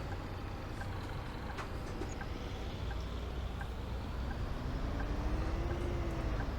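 A bus engine in Bus Simulator 18 drones steadily throughout, a continuous low rumble with a faint rising whine toward the end.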